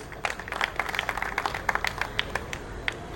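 An audience at a Teachers Day gathering in Gangapur claps enthusiastically, a dense run of sharp, uneven hand claps sustained throughout at moderate volume.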